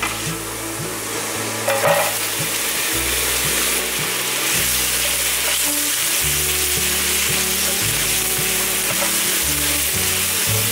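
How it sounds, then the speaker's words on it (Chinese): Luffa and minced ginger stir-frying in black sesame oil in a wok, a loud continuous hiss with a brief scrape near the start and a steady low hum underneath throughout. "姜末炒香后，放入丝瓜。"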